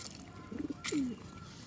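A pigeon on a rooftop pigeon farm gives a short, soft coo, faint and somewhat distant over quiet background hiss.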